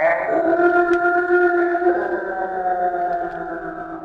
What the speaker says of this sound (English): the stranger with the morphing face emitted a deafening howl